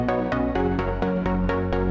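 A Serum synth pluck with reverb and heavy compression repeats in quick, even hits about four times a second. Each bright, full pluck swells into a dense, sustained reverb tail with no gaps between notes.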